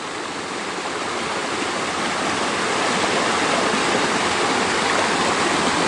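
A cascading waterfall beside a huge boulder on a mountain trail rushes loudly and continuously, a dense, unbroken wash of falling water heard up close with no other sounds.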